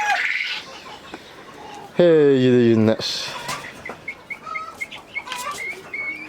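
A broody Ko Shamo hen with newly hatched chicks, giving a loud, harsh drawn-out call midway, surrounded by faint peeping chirps and soft clucks, with someone talking nearby at the start.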